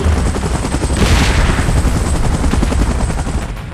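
A helicopter in the PUBG Mobile game arrives for an evacuation, with loud, close rotor chop and dense rumble forming a continuous thumping roar that fades slightly at the end.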